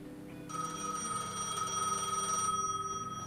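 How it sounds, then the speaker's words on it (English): A telephone rings in the video game Gas Station Simulator, a steady, bright electronic bell trilling continuously and fairly loud from about half a second in, with no talk over it. "there's a phone going."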